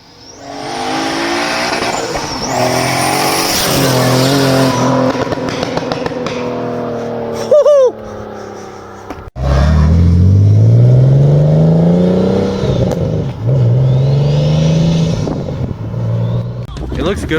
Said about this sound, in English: Car's done, ready to take it for a test drive, see how the new turbos sounds and feels.